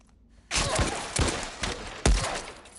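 Bursts of gunfire in The Last of Us Part 1 on PS5, several loud sharp shots in an irregular volley, each ringing out before the next, with no voices over them.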